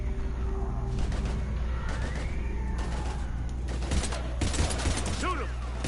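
Gunfire crackles through a Mass Effect 3 firefight, dense bursts of shots and blasts layered over a constant rumble of battle, with voices shouting amid the shooting.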